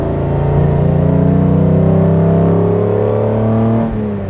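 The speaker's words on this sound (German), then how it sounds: "hier hat man es gerade gemerkt, wie toll er ab 4000 Umdrehungen losbrüllt" A 1956 Mercedes-Benz 300 SL Gullwing with sidepipes roars loudly above 4000 rpm, a close, sustained engine howl that holds steady for about four seconds before easing off near the end.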